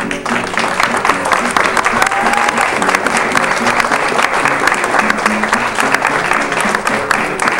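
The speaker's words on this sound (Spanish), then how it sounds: "Vamos pues a darle un fuerte y caluroso aplauso" Loud, sustained applause from a crowd at a ceremony in Taxco fills the whole stretch, a dense, steady clapping with a faint voice briefly audible underneath.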